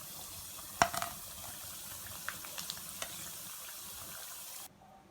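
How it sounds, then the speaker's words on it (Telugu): Egg balls deep fry in oil with a soft, steady bubbling sizzle. A sharp clink comes early, light stirring taps follow, and the sound cuts off near the end. No voices. "గోల్డెన్ బ్రౌన్ వచ్చే వరకు దీన్ని ఫ్రై చేసుకుందాం."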